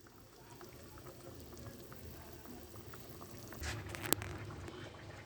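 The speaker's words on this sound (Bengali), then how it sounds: "আমি ফুটে ওঠা পর্যন্ত অপেক্ষা করবো 2 মিনিটের জন্য।" A pot of fish curry with potatoes, ivy gourd, pumpkin and green chillies coming to a boil, with a steady low bubbling and simmering throughout and a brief sharp clink near the end.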